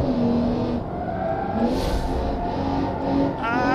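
A BMW SUV wagon engine in BeamNG Drive, droning steadily while driving with some revving swells and a brief tire noise near the end, continuous and fairly loud with no voices.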